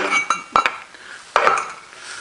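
Metal oil cans handled on a shop bench, giving a few sharp clinks and knocks close by, spaced over a couple of seconds with quiet between them.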